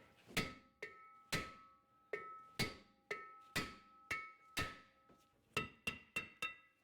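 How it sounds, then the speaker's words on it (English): Hammer striking a rear brake rotor between the wheel studs on a 2013-2017 Subaru Crosstrek, about a dozen sharp metallic blows with ringing decay, quick toward the end, loud and close. "we'll take a hammer and we'll hit on it in between our wheel studs"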